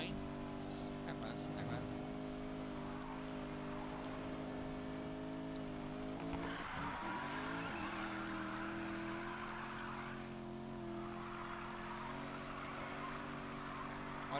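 A car drifts in the video game Need for Speed Payback, its engine droning steadily with a sharp pitch sweep midway as it slides, while a voice talks over the gameplay.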